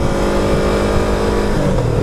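A small car's engine drones loudly and steadily up close, with a thin whistling whine riding over the rumble.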